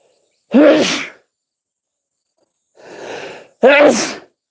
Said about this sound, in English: so that I can sneeze in this moment.